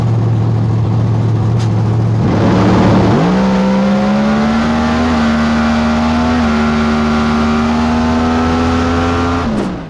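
A blown NHRA pro mod drag car with EFI on the track, its engine droning loud and close, then launching at about three seconds into a rising high-powered roar that holds steady, with no talk.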